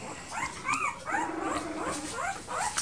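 A poodle mother near her one-week-old litter of eleven puppies gives a run of soft, high whimpering yips and whines, repeated in quick rising-falling bursts close by, with low grumbling underneath.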